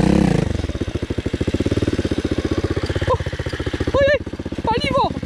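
A Loncin 110/125 motorcycle engine runs close by with a steady, rapid idle thump and a clattery mechanical tone, and people talk over it briefly near the end.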